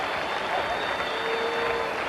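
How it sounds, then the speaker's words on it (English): A stadium crowd at Dalymount Park roars and applauds as UCD and Shamrock Rovers come out for the 1984 FAI Cup Final, a steady, dense wash of cheering and clapping heard from a distance. "the roar of the crowd heralds the team's arrivals out onto Dalymount Park"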